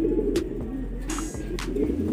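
Racing pigeons coo steadily at the loft, a soft low burbling that keeps going throughout, with a few faint brief chirps and knocks over it.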